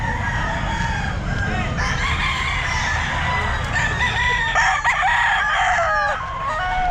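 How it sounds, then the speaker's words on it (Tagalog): Several Roundhead roosters at a crowded pet market crow one after another, loud and near, with clucking and overlapping calls over a busy, noisy background. "ito mga manok niya"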